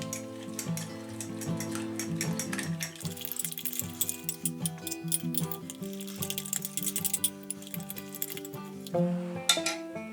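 Chopped carrots and onions tossed together in a bowl, giving a busy run of clinks, rattles and scrapes with a quick, uneven rhythm, close by and fairly soft, with no talking.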